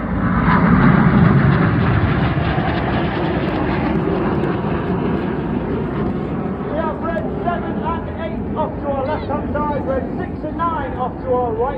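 Red Arrows display jets fly over the Southport Airshow, a loud broad jet roar that fades gradually while an announcer commentates over it.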